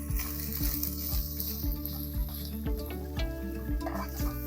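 Capsicum and spring onion with salt sautéing in a pan for a chicken spring roll filling, a spatula scraping and tossing in a regular rhythm over a constant close sizzle, no talking.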